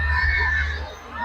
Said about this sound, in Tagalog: bongga ang mga sigawan ng mga people